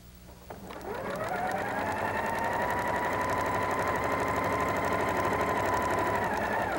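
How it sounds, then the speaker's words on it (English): A sewing machine stitches quilt fabric pieces together, starting up and running at a steady, fast, even hum with a rapid mechanical needle rhythm, loud and close with no talking. "I'm going to start stitching at this wide end."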